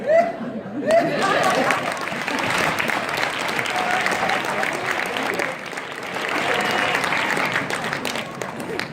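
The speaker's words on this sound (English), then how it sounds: "Please clap for her again." An audience applauds for a small-business representative at an event, sustained clapping from a crowd that swells and dips over nine seconds, mixed with scattered laughter and murmured chatter.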